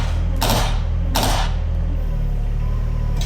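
A jackhammer (hydraulic rock breaker) works behind scrap metal inside a hangar, giving two loud, brief bursts of harsh hammering over a steady, droning engine hum.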